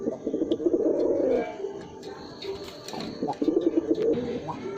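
Pigeons coo in low, throaty bursts from a pair of red-headed white pigeons, repeating close by in two main clusters with softer cooing and faint chirps between.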